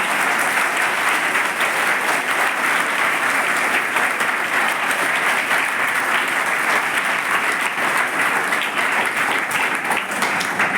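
An audience at a school event in Amravati claps loudly and steadily, a dense sustained wall of applause from a large crowd that holds at the same level throughout, with no speech over it.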